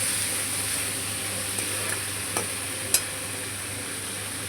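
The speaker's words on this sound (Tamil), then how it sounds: "நல்லா எண்ணெய் ஊற்றி நல்லா பாவக்காயை நல்லா சுருங்க நல்லா வணக்கிக்கணும்" Bitter gourd sautés in sesame oil with a soft, even sizzle. A few light clicks from stirring cut through the frying.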